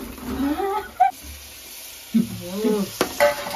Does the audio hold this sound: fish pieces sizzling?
yes